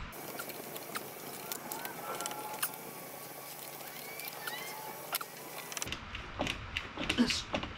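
Nissan Z32 power steering pump part turned by hand, a series of close, quiet mechanical creaks and clicks, with scraping and handling noises toward the end.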